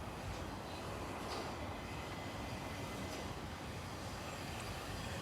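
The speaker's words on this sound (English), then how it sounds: "approaching in now is the 1141 Southeastern service from London Victoria to Ashford International" A Southeastern passenger service from London Victoria to Ashford International approaching Borough Green & Wrotham station on a hot day, its steady rumble, rolling wheels and hiss fairly distant and faint, with no talking.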